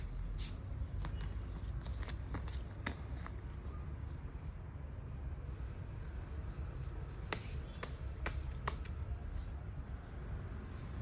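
Tarot cards being shuffled and drawn, with dry crisp flicks and snaps in irregular bursts, close and quiet over a steady low background hum.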